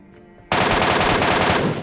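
Rapid automatic gunfire in the battle-royale game Game X Pro 2 bursts in loudly after a half-second of quiet background and keeps rattling steadily to the end, with no talk over it.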